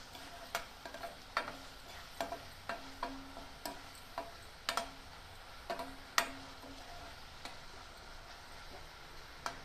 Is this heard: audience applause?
no